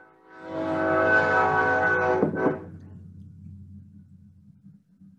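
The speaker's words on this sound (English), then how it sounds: "we have another train coming by, so let's pause for just a moment" A train passes by outdoors, a loud sustained rumble with a blaring horn that swells, peaks, then cuts off, leaving a fading rolling rumble of cars.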